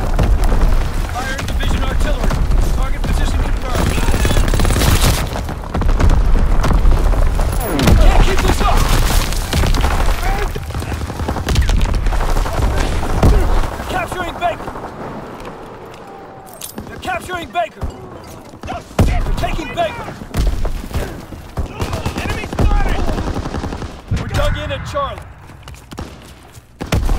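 Heavy division artillery barrages pound the Call of Duty WWII battlefield with booming impacts, rattling gunfire and falling debris, loud and dense at first, then thinning into scattered blasts, with soldiers shouting throughout.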